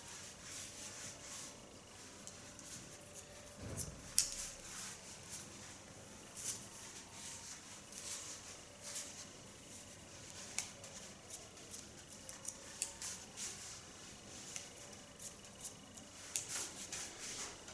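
Scissors snipping through long curly hair during a haircut, producing faint, scattered crisp cuts spread across a quiet background.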